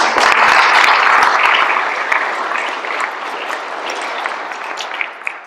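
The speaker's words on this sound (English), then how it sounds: "I think they all deserve a round of applause because it is important." An audience applauds the candidates at a Cochrane all-candidates forum, a loud burst of clapping that gradually thins and fades over several seconds.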